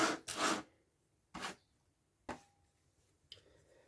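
A clipped plastic casing of a Playaway audiobook player being pried apart, heard as a few sharp, scraping cracks and clicks spaced about a second apart, close and quiet with no talking.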